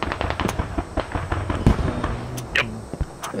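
Tracer gunfire in the Squad video game on the Gorodok map, heard as loud, rapid, irregular bursts of sharp shots with close booming cracks layered over a busy battlefield background.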